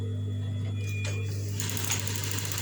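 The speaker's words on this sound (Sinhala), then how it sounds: "අඟල් 8 පැත්ත මේ විදිහට දෙකට නමලා වට මහනවා." Sewing machine stitching around a fabric edge folded in half along the 8-inch side, running steadily with a loud, even motor whir and rapid needle chatter throughout.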